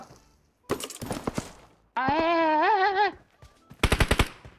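Gunfire in the video game PUBG Mobile comes as short bursts of sharp rapid shots at the start and end, while a person talks in between.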